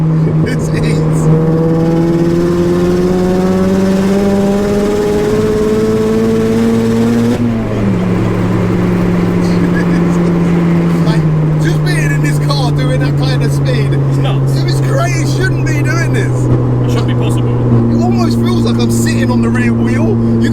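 A dry-sumped 600bhp Mazda MX-5 engine revving, loud and raw, climbing for about seven seconds, then dropping sharply at a shift into a lower, steadier roar with rattling at the end.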